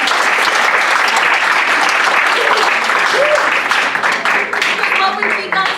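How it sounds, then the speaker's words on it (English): Sustained audience applause from workshop participants at a student leadership academy session, dense and steady throughout with some voices mixed in near the end. "Give yourselves a round of applause."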